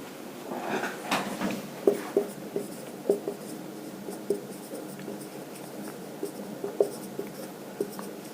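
Pen or chalk writing out a definition during a Class 10 maths lesson on linear equations, a steady run of soft scratchy strokes with periodic tapping accents, close and fairly quiet, with no talk.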